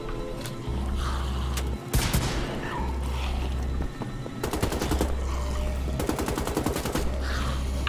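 Rapid bursts of heavy cannon gunfire from the video game Wolfenstein: The Old Blood hammer out in several loud, close volleys, separated by short gaps, over a low droning game soundtrack.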